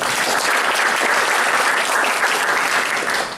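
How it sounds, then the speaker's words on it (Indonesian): A church congregation applauds during a service, a loud and dense wash of many hands clapping together. It carries on evenly for the whole stretch and fades slightly at the end, with no voices heard over it. "Dengan tepuk tangannya buat Tuhan Yesus."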